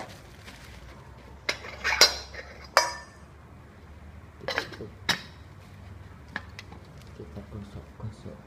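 Metal teapot being handled and rubbed, giving scattered close clinks, taps and scrapes at an irregular pace over a low background hum.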